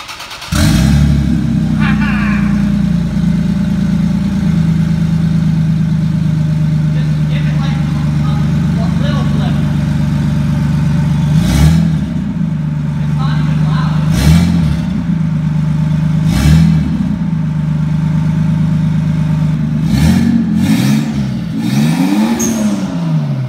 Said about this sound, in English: We're gonna start up with just the downpipe, no exhaust.